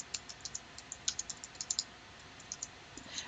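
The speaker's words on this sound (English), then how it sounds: "I'm going to have to type in these numbers" Calculator keys are pressed in a quick, irregular run of faint, close plastic clicks as numbers are entered, with a few pauses and no voice over them.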